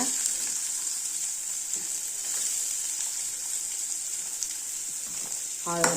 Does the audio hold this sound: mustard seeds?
yes